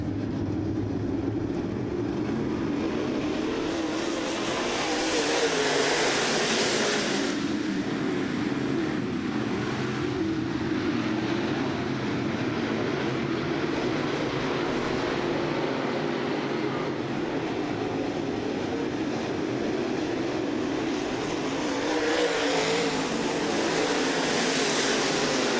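Dirt track race cars roar around the Southern Ontario Motor Speedway, a loud sustained engine drone that swells as the pack passes and fades, heard from trackside without talk.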